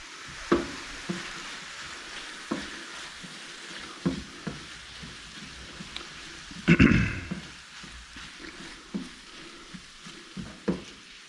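Onions fry on low heat in a pan with butter, salt and black pepper for biscuits and gravy. A faint, steady sizzle is broken by scattered utensil scrapes and one louder stirring clatter.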